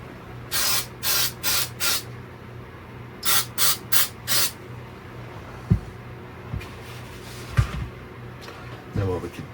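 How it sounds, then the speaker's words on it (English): A spray can hisses onto a 3D printed Super Mario model in several short bursts, four then four more, followed by quieter handling clatter. "and then let's spray this."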